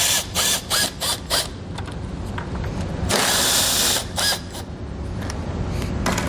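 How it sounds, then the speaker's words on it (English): A power driver with a T27 Torx bit backs screws out of a plastic panel on a 2004 Polaris Sportsman ATV, loud and close, with short bursts of whirring, then a longer continuous run, and a ratcheting clutch rattle. "We're going to start by taking this panel off. I'm going to take a T27 Torx bit."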